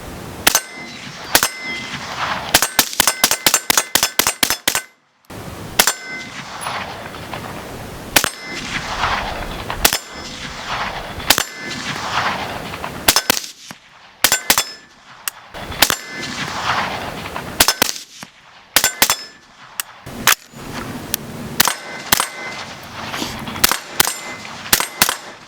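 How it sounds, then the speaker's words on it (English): An AR15 11.5 multicam carbine fires in fast strings of sharp, loud cracks, some bursts rapid and others spaced, with short pauses and outdoor echo between volleys. "let's run some rounds through this gun"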